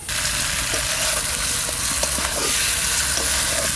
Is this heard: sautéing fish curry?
yes